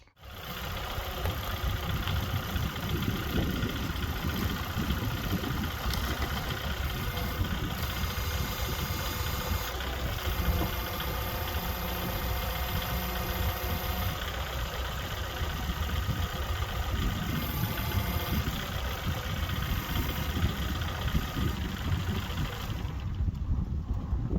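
A tractor engine runs at a steady idle, a constant close rumble with a slight vibrating drone and no variation in pitch.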